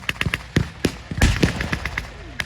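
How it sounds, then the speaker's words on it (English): At a World War II battle reenactment, sharp rifle and machine-gun shots crack in quick irregular bursts, with heavier mortar-like booms in between, loud and echoing across an open field. "The mortar's now firing and return fire as well."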